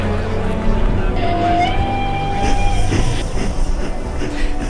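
Train sound effect with a rumbling, rolling rail noise and a drawn-out whistle-like tone, loud and continuous beneath background music.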